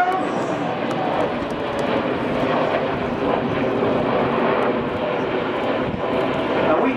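Red Arrows jets trailing smoke fly the Diamond Roll at the Farnborough Air Show, a loud, sustained roar of jet engines filling the whole stretch, with a commentator talking over it.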